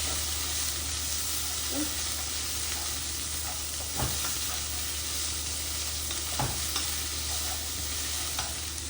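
Butter frying in a pan while being stirred, giving a constant bright sizzle with a few sharp scraping knocks of the spoon against the pan.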